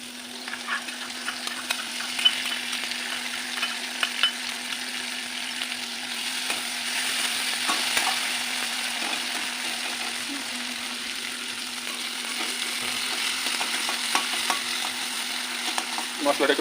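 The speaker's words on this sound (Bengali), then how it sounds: "মশলাটা একটু ফ্রাই করে নিতে হবে।" A spice paste of ground cumin, coriander, ginger and chili with tomato sizzles and fries steadily in a pan for egg curry, with occasional stirring scrapes, close and continuous throughout.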